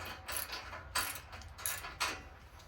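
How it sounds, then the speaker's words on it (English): A socket wrench ratchets while tightening bolts on a log catcher being fitted to a County Line 25-ton log splitter, giving three short clicking bursts, moderately faint, with no talk. "use your socket wrench to tighten them up"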